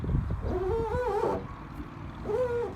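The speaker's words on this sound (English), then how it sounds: "That's the sound of a squeaky clean paint job." Freshly cleaned, unwaxed car paint squeaking under a rubbing hand or cloth, two sharp rising-and-falling squeals close up over a low background rumble, with no talking.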